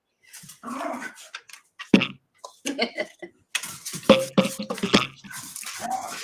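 Dogs play fighting indoors give bursts of growls, grumbles and short barks in uneven, scrappy clusters, loud and close, with sharper clicks and scuffles that fit nails on the floor.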